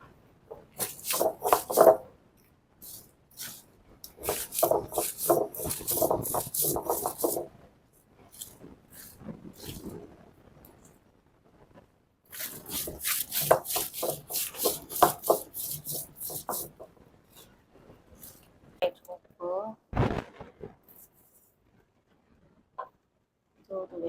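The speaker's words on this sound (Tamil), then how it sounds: "அம்மியில் சம்பளம் இறைக்க போகிறோம் செத்தலையும்" Dried chillies being ground for sambal on a traditional ammi grinding stone, a close rough rubbing and rasping of stone on stone in repeated bursts with pauses, and brief speech in between.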